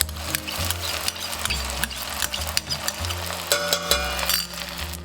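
Tomato paste for aloo gobi sizzles and fries in a pan of potatoes and cauliflower while being stirred, with steady close crackling and repeated scraping and clinking strokes of the spoon against the pan.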